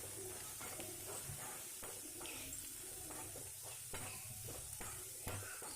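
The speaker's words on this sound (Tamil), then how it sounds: "இது நல்லா வதங்கட்டும்." Onions sauté in a pan with a steady soft sizzle, broken by irregular scraping stirs of a utensil; no voices. Andhra-style onion pickle being cooked.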